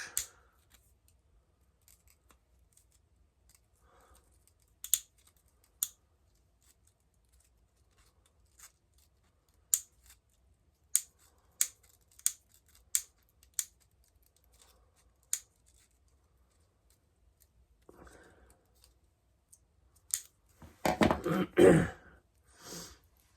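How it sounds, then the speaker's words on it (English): Metal snips make a series of sharp, isolated clicks while cutting a small piece of plastic, spaced irregularly over quiet, followed by a short burst of rustling handling noise near the end. "So all I did was take a snips, just cut a little piece."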